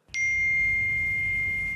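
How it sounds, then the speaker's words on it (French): A phone notification rings out, the alert for roaming charges abroad: one bright, sustained electronic ding that starts sharply and holds steady for nearly two seconds before fading, alone with no talk. "C'est la notification des vacances"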